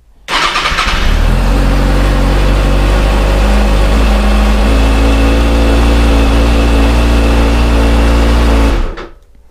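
A 2020 Kawasaki ZX6R motorcycle engine cranks and fires, then settles into a loud, steady idle close by, with a deep continuous rumble running for several seconds before cutting off.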